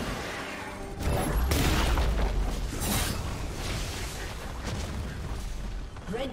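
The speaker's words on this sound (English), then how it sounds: "Red team's turret has been destroyed." A turret in League of Legends collapses with a loud, sustained booming explosion and crumbling rumble, heavy low-end burst lasting several seconds amid game effects.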